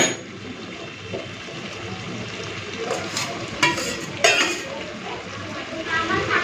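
Fried prawns are stirred into a wet, simmering pan of Malabar spinach stems, giving a steady bubbling sizzle under several louder scraping and clattering strokes of a spoon against the pan, close by, without speech.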